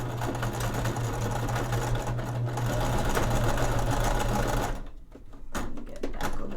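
A sewing machine runs steadily, stitching across the seam of a simple fabric cinch pouch, its close, continuous motor hum broken by a short pause near the end before starting again.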